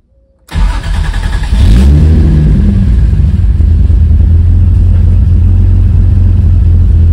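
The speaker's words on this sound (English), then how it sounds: "Right now she's kind of idling like about 800 RPM" A Toyota MK3 Supra 7MGTE engine on sequential injection cranks over and catches after a brief silence, then settles into a steady, loud low idle near 800 RPM, rumbling continuously with no talking.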